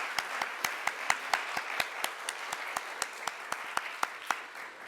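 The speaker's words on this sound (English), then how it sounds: "Give them a round of applause." Audience at a CLAGS event applauding the staff and board members, with sparse, distinct claps in a steady rhythm over a soft bed of clapping, moderately loud and continuous, with no talking.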